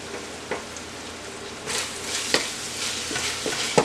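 Cheesesteak meat and peppers sear in a pan with a steady close sizzle that swells partway through, broken by occasional scrapes and clicks of a spatula, with no talking.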